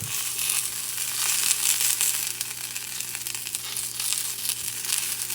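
Chorizos fry in hot oil in a pan alongside Colombian cheese arepas, giving a steady, close sizzle with crackling pops throughout.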